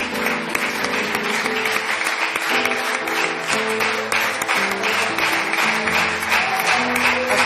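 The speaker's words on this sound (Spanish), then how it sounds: "¿O cuántos quieren dar un aplauso al Señor," A church congregation applauds together at length, dense steady clapping filling the room, with music playing underneath throughout.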